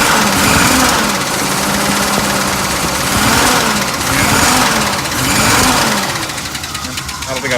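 A 1939 Pontiac Eight engine runs close and loud with rough, uneven pulsing, misfiring and sharp metallic tapping over the throb, and a voice speaks over it.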